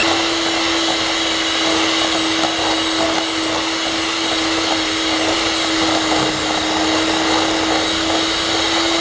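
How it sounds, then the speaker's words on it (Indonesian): An electric hand mixer beats butter and powdered sugar into American buttercream frosting, a steady loud motor whir with a constant pitched hum that runs unbroken throughout, with no talking over it. "Lalu kita akan mixer ya."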